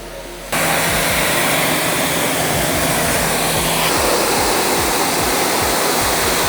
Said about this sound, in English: take our pressure washer with our gun and our 15 degree nozzle, simply start spraying off the door jamb